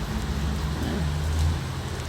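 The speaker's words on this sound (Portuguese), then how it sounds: "tá chovendo mesmo aqui" Steady rain falls outdoors, a dense even hiss of drops with a low rumbling undertone, heard alone without voices.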